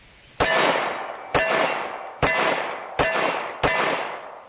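Five 9mm full metal jacket bullets strike a steel target, each a sharp metallic clang with a ringing tail, spaced roughly a second apart at a moderate distance, with no talk.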